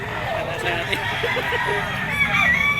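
A yellow-legged young stag rooster crows at a poultry market stall, its call rising over a busy, noisy background with other fowl and people talking nearby.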